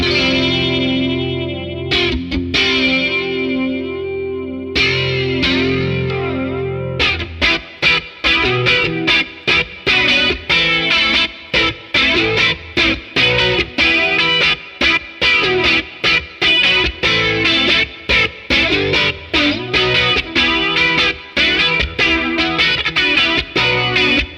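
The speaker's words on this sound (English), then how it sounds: "when I have the regen pretty low, it kind of has a chorusy kind of sound to it" Guitar chords swirl through a flanger with low regeneration, giving a shimmering, chorus-like sweep: first a few sustained strums, then a steady chugging rhythm with a spacey, modulated tone.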